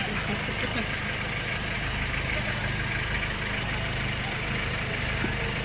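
A steady boat engine idles low and constant throughout, a continuous rumble with a broad wash of noise on top, no speech; a large hired motorboat at Cuatro Islas, Leyte.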